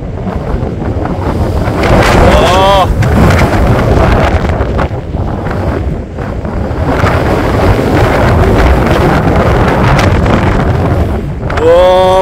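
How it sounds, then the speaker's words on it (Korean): Strong wind gusts across a golf course, roaring as heavy, continuous buffeting on the microphone throughout. "아, 바람 불기 시작하네."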